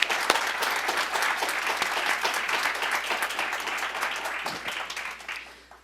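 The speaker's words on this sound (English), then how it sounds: "please join me in giving a round of applause and welcome our guest" A welcoming round of audience applause at a New York State executive budget information meeting, a sustained dense wash of many hands clapping that swells and then fades out near the end.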